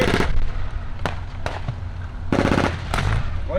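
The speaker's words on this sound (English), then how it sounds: "there are rounds coming down on the village" Explosive battle reenactment bursts around a village during a WW2 staged fight with a Tiger II tank, sharp cracks at irregular intervals over a constant low rumble, loud and fairly close, no talk.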